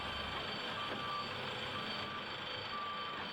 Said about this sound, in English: There's another kind of dump truck.